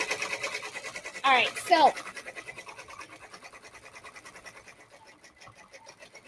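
An embroidery machine stitches felt onto a hat with a steady, fast rhythmic buzz that runs throughout at moderate level, while a person speaks briefly over it near the start.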